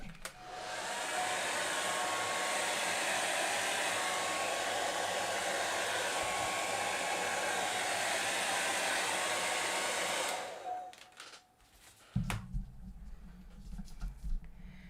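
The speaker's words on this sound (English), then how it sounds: "Or you can take the hairdryer" A handheld hair dryer blows continuously and loudly at close range while pushing alcohol inks across Yupo paper, a steady rushing roar for about ten seconds before it cuts off, followed by faint handling noises.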